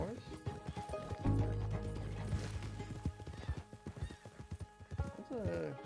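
A horse neighs and whinnies with clip-clop hoofbeats, mixed with game music and a voice talking over it, in the video game Red Dead Redemption 2.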